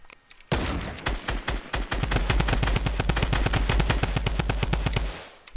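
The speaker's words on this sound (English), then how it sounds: "I got a drum gun with 300 bullets." Rapid automatic fire from a drum gun in the Fortnite video game, a loud, dense burst of shots that builds into a fast, steady stream for several seconds before cutting off.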